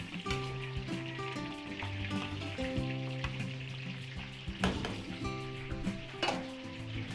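Pork liver, potatoes and carrots fry in a pan, giving a soft, steady sizzle with occasional stirring clinks and scrapes. The cooking sits quietly under a sustained tonal hum.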